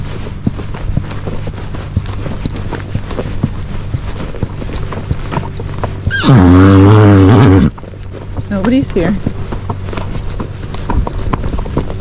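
A Tennessee Walking Horse's hooves clip-clop steadily through a ride, nearby and fairly loud, with a brief burst of louder noise midway and short talk from the rider.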